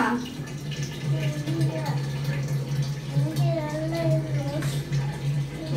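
Tap water runs steadily into a basin in a Kuwait home while a child washes hands, with a low continuous hum and splashing under an adult and someone talking throughout.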